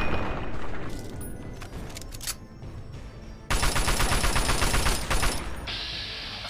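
Laser pistol shots from Fallout: Tale of Two Wastelands fire in dense, loud bursts of bright crackling zaps that build into a sustained rapid volley, with no talking.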